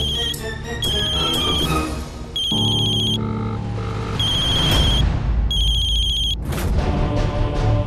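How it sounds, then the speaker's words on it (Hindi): A mobile phone ringtone plays loudly and close, a bright repeating electronic melody with steady looping phrases and no voices over it. "पूजो प्लीज फोन उठा ले"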